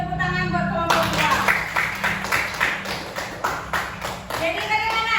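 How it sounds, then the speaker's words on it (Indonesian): A classroom of students claps for a group after a math lesson, a burst of rhythmic, fairly close hand claps that starts after a moment of speech and carries on for several seconds before a voice returns. "Beri tepuk tangan buat kelompok 2."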